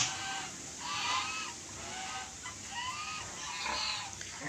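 Native chickens on a rural Philippine farm clucking in scattered bursts, faint and somewhat distant, with no talk over them.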